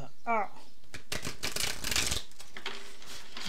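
Tarot cards being shuffled by hand, a few dry riffling and sliding bursts mid-clip, close and moderately loud, with a brief voice at the start.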